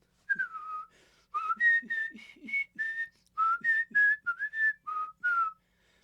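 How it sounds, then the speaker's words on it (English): A short electronic melody of clear whistle-like tones plays alone, a quick tune of about a dozen notes, a laundry machine's end-of-cycle chime. "my laundry's done. You hear that?"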